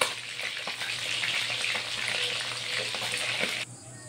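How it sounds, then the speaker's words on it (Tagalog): Cooking oil spatters and crackles steadily in a hot pan while frying, a dense, close sizzle with scattered sharp pops, cutting off abruptly near the end. "Sumatalsik yung mantika guys."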